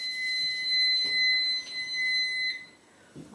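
Kitchen oven timer beeping while muffins bake, a steady high-pitched electronic tone pulsing in repeated bursts for about three seconds, then stopping.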